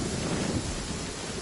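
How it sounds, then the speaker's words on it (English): Thunder rumbling in Genshin Impact, a steady low roar of storm noise with rain-like hiss that fills the whole moment with no distinct crack. "Many people dread the sound of thunder."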